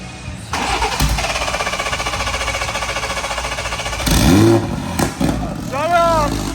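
A Lincoln Continental engine cranks and fires into a loud, steady idle with a rapid pulsing throb, then revs up sharply toward the end, with people talking over it.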